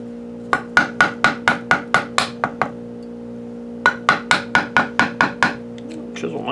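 A chisel cutting pinewood, struck with rapid evenly spaced sharp taps in two bursts of about ten blows each, close and crisp, with a brief pause between and a steady background hum.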